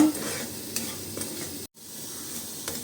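Ragi rava roasts in ghee with a soft, continuous sizzle as a spoon stirs and scrapes it around the pan in quick, close strokes, broken by a brief cut to silence midway.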